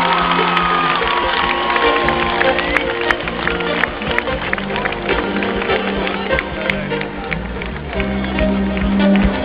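Audience at a live Greek music concert applauding and cheering a musician, sustained crowd clapping and shouts mixed with lingering band sound and an announcer's voice over the top.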